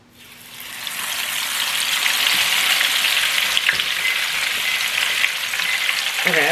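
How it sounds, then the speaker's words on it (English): Fried ice cream dropped into hot oil, sizzling and bubbling with a bright crackle that swells quickly in the first second and then stays loud and steady. "Going in the oil."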